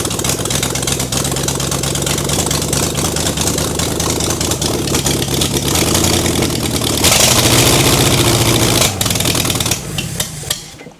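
A 500ci big block engine with its timing off runs loud and steady for about ten seconds, surging briefly near the end before cutting out and dying.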